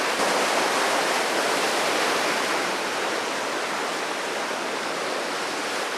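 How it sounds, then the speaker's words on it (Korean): Heavy ocean surf pounds the rocky shore at Pohang, Gyeongbuk, on a rough day for fishing. The sea makes a loud, continuous roar and hiss with no pauses or voices. "지금 파도가 쳐서 앞에 포마도 일어나고"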